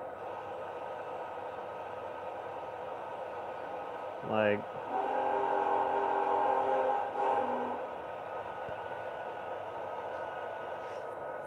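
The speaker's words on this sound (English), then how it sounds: "if you can hear the train, okay, that's good." A train passes during a night outing, a faint rumble with a brief rising tone, then a sustained multi-tone horn blast for a few seconds, while a person talks quietly nearby.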